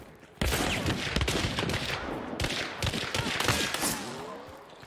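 Rapid gunfire in a first-person shooter video game, close, loud bursts of shots that run almost without a break for several seconds after a quiet start.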